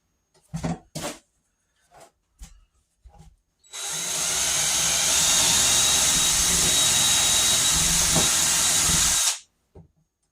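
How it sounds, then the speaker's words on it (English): A power drill whirs steadily for several seconds, loud and close, drilling into wall studs in a mobile home, after a few short knocks and taps. "We got to drill 2 holes into the studs"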